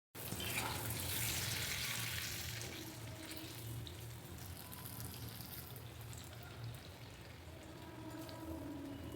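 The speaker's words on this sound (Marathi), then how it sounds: "तर छान अशी भजी आता तळून घेते मी." Bhaji fritters sizzle in hot oil, a steady close hiss and crackle that is loudest at the start and continues evenly throughout with no talking.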